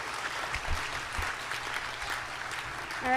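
An audience at a Sunday program claps in a sustained round of applause, a dense crackle of many hands that carries on evenly before a brief tonal sound near the end.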